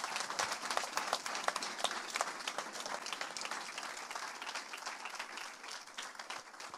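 A church congregation applauds in praise, a steady, dense wash of many hands clapping that fills the room without letup.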